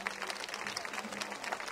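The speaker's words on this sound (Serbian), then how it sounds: "Aplauz za Kristinu." An audience at the 32nd TIN Festival in Donji Milanovac, 2011, applauds the singer Kristina after her competition song; the clapping is brief, steady and fairly faint, with a hint of murmur.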